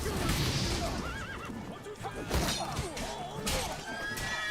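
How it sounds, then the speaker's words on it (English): A horse neighs loudly amid sound effects in The Witcher 3, with a sharp crash and hoof clatter mixed into the busy noise. "You hit the horse."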